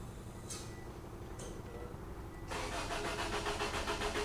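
A Subaru with a newly installed engine and a misfire problem cranks with a couple of short clicks, then catches partway through and settles into a steady, rumbling run.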